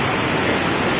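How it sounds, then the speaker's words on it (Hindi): Rushing water pours steadily at a waterfall, a loud dense roar that fills the whole second without a break or any voices. "केते पानी आसुची वाह बहुत पानी आसुची"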